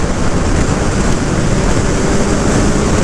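A 2023 Suzuki Hayabusa super sport motorcycle rides away, its engine roar blended with heavy, steady wind rush throughout, loud and constant with no talking.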